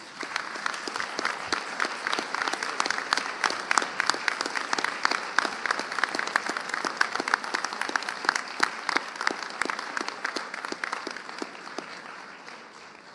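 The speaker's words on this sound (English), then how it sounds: "Please give your friends a round of applause and family." Graduation ceremony audience applauds graduates' family and friends at a postgraduate awards event; sustained, even hall clapping with crisp individual claps throughout, tapering slightly near the end.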